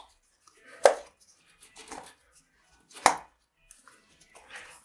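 Ignition coil packs on an Alfa Romeo 147 Twin Spark snap into place with two sharp, close clicks about two seconds apart, followed by softer handling noises.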